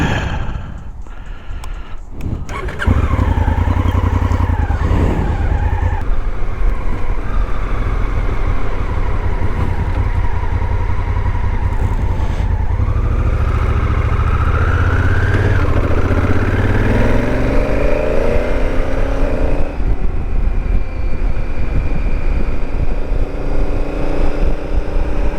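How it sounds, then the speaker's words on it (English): A large motorcycle hums steadily down the road, its engine loud and continuous with a low rumbling drone, shifting in pitch as it accelerates, with wind noise over the ride. "Big ass motorcycle humming down the road."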